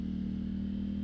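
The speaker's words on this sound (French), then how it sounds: "ce chant du moteur qui est agréable" A KTM Duke 790 motorcycle fitted with a full Akrapovic exhaust idles or runs steadily with a deep, even engine drone, loud and close, with no voices.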